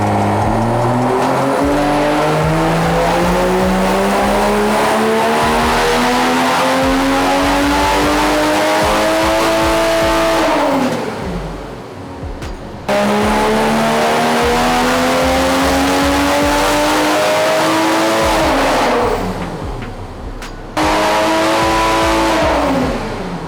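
A Toyota A90 Supra with methanol injection doing dyno pulls: two loud, sustained runs of the engine climbing through the revs, each ending with a sharp drop in pitch as the throttle closes, with no talking.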